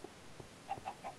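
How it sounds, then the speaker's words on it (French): Chickens in the Minecraft video game give three short, soft clucks in quick succession, fairly quiet against a faint background. "Donc après, il y a des poules."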